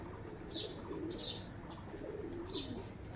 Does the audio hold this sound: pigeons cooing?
yes